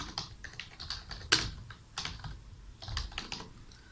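Keys clatter on a computer keyboard as text is entered in Revit Architecture, a quiet irregular run of close, crisp taps with short pauses between bursts.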